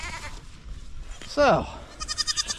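Goats bleat inside a barn, one loud wavering bleat standing out near the middle while someone talks softly around it and more bleating rises toward the end.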